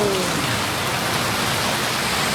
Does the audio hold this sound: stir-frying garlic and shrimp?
no